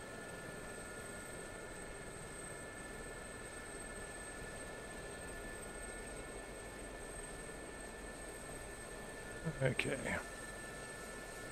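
A Gazelle helicopter flying in the DCS combat flight simulator gives a steady, even engine and rotor drone throughout, with a short spoken word and a brief burst of louder noise near the end.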